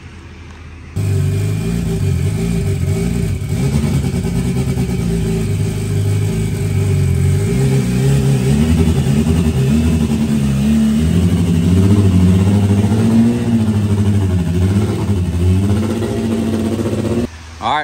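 A turbocharged all-wheel-drive hatchback's engine runs steadily and loud throughout, a continuous drone with slight rises in pitch, near and unbroken until it cuts off at the end.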